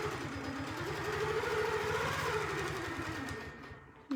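A sewing machine runs steadily, stitching a quilt block seam for a square-in-a-square block, its fast motor hum and rapid needle rhythm continuous for about four seconds before slowing at the end.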